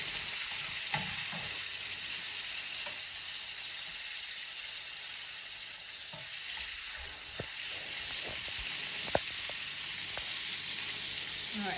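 Bacon sizzles steadily in a pan over a high flame, a dense continuous crackle and hiss with occasional sharper pops, close and alone throughout.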